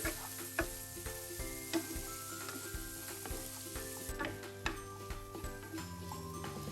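Malabar spinach fruit stirred with spices in a pan on low heat, a steady sizzle with soft scraping strokes and occasional clicks of the utensil against the pan.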